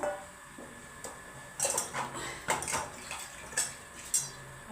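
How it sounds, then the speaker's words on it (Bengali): A stone grinding slab and pestle being rinsed with water, with intermittent clinks and knocks of stone and splashes, close and moderately quiet, with no talking. "কুটাটাও ধুয়ে দিচ্ছি সিলকুটা ধোয়া হয়ে গেছে"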